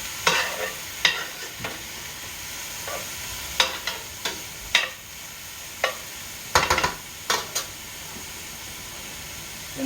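A spoon stirs Coney sauce mixture in a pot with a soft steady hiss. Irregular close scrapes and clicks of the spoon against the pot come in scattered bursts.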